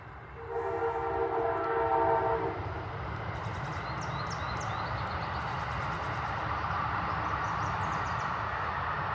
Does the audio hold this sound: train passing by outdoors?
yes